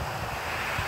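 Breezy wind outdoors in Maine on a cold winter day, a brief steady buffeting roar of wind against the microphone with no voices.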